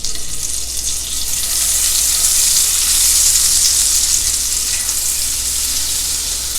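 A tablespoon of salted butter sizzling in a hot pan, a steady loud bright hiss and crackle that holds evenly throughout, close by with no talking.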